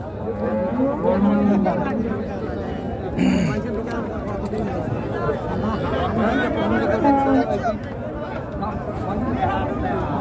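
Cattle at a busy Qurbani livestock market let out several low moos amid steady crowd chatter and nearby conversation.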